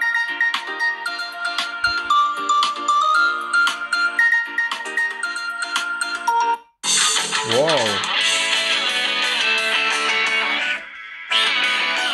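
Ringtone melody played at maximum volume through the twin speakers of an OUKITEL RT7 Titan rugged tablet, a loud, bright tune of repeated notes that shifts into a denser, fuller passage partway through and briefly drops out near the end.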